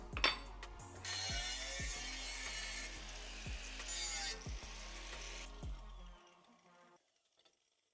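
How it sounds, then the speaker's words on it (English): A power tool cuts through part of a PCH brake disc kit for clearance on a Miata, a loud, close, hissing cut lasting several seconds that winds down, then silence. "So the P.C.H disc kit needs some clearancing as well right here, so I'm gonna just cut that off right now."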